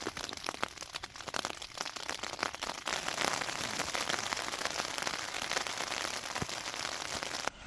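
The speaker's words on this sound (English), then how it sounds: "It's been raining off and on all morning, which has given me a good test for the tent on how it does in the rain." Steady rain drums on a silk nylon tent outdoors, a dense, continuous patter with scattered louder drops that thickens into an even hiss toward the end.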